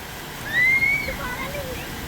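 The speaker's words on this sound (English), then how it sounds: "They even hit you with a waterfall when you leave the bowl, which is kind of neat." A waterfall pours steadily over the exit of a bowl slide at a water park, a broadband rushing wash, with a brief whistle-like tone and a voice over it.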